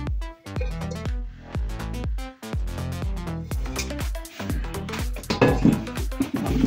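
Cooking pots and pans handled during an unboxing, with repeated metallic clanks and ringing clinks of lids and pans knocking together close up, dense and irregular throughout.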